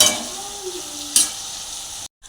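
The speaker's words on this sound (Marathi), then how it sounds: "आपण ह्याच्यामध्ये टाकूया बारीक चिरलेले दोन टोमॅटो हे चांगले परतून घेऊया" Finely chopped tomatoes tossed into a pan with sautéed green chillies and cardamom sizzle steadily, with a brief stirring scrape partway through before the sound cuts off.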